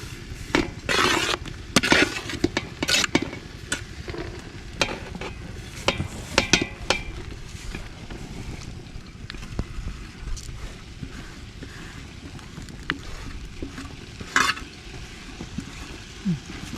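A utensil stirs cooked rice into tomato masala in a pan, producing scattered sharp clacks and scraping knocks that are busiest at the start and sparser later over a faint background hiss, with no talking.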